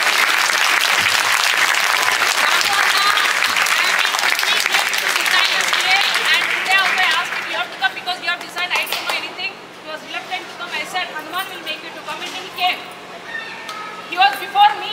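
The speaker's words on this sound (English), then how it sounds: "Please give them good round of applause," Audience applause at a temple wedding festival for Sita and Rama: dense, steady clapping from a large crowd for about seven seconds, then thinning into scattered claps.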